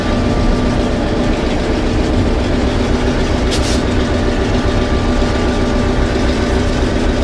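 An old Disney-built locomotive engine running, about 52 years old, giving a loud, steady, continuous low rumble and drone from close by with no pauses.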